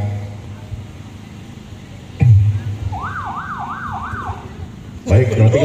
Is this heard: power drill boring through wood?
no